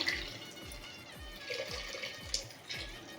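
Water pouring into a pot of corn cobs being readied for boiling with salt in a home kitchen, a steady close splashing wash with soft repeated low knocks underneath, no talking.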